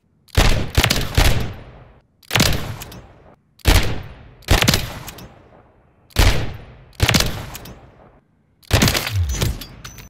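A TYR JAK Beholder rifle in a video game fires seven loud, booming single shots in a slow, uneven rhythm, each with a sharp crack and a decaying tail.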